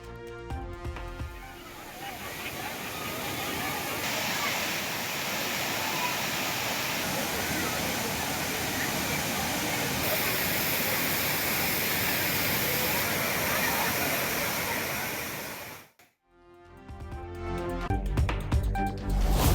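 Thirparappu waterfall crowded with bathing tourists roars as a steady, loud wash of falling water, cutting off abruptly near the end before a burst of noise returns.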